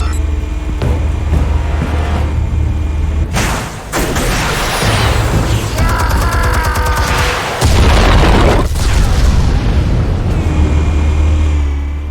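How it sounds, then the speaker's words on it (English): Explosives detonate in a video game as several heavy booms over a constant low rumble, with crackling and debris-like bursts rising and falling throughout. "Explosives armed. Fire when ready."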